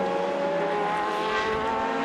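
Race cars, including motorcycle-engined Radicals, roar past on the last lap of a SuperSports championship race at Sydney, a steady loud engine drone with shifting harmonic tones and no voices.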